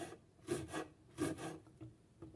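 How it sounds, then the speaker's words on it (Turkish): Thin green chili peppers are sliced with a knife on a board, giving a run of soft, close cutting strokes in an uneven rhythm, fairly quiet with short gaps. "İşimiz falan olduğunda ince ince doğruyoruz arkadaşlarım."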